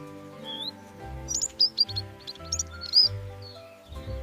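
A finch gives a few short, high chirps and tweets in quick bursts over a steady musical backing.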